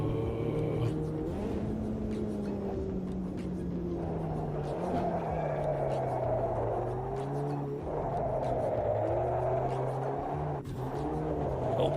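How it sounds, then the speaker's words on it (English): A race car in the Automobilista 2 sim racing game revs hard and climbs through the gears, with a clear shift from fourth to fifth as the pitch drops and climbs again, loud and steady throughout. "Just listen to this gear change between 4th and 5th."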